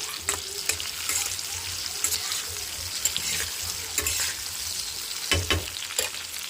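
Vegetables frying in hot oil with tomatoes, a steady broadband sizzle with occasional stirring scrapes and brief louder crackles, close and continuous without talk.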